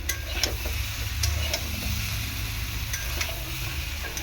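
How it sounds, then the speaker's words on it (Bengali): Green chillies, both raw and ripe, sizzle steadily in a pan of frying vegetables for shukto, with stirring scrapes and occasional clicks over a continuous hiss, close and moderately loud throughout. "এর মধ্যে আমি কয়েকটা কাঁচা লঙ্কা দেবো"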